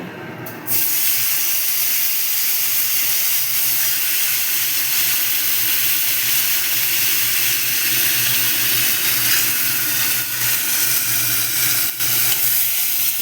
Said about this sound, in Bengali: আমার তেলটা ছিটকাবে এর মধ্যে আমি আলুগুলো ভেজে নেব